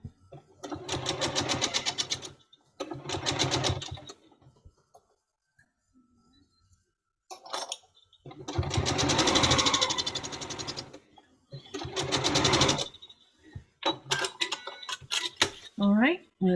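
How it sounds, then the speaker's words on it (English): A sewing machine stitches pieces of a quilt block together in bursts of steady rapid whirring, several runs separated by pauses, close and fairly loud, with some light handling noise between runs. "get this sewn together."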